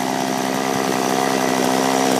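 A chainsaw fitted with a new carburetor runs at a steady, loud idle-to-mid rev, engine drone constant and close throughout with no voices.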